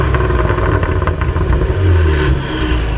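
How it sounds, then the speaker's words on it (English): A 2022 Cadillac CT4-V Blackwing engine revs loudly and close, with a throaty, rising and falling roar and a strong low rumble that swells near the end. "how does it sound with the engine note turned all the way up?"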